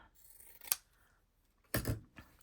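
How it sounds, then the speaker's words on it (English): Scissors snip through excess paper on a junk journal page, two crisp close cuts about a second apart with quiet rustling between them. "Just trim some of that excess there."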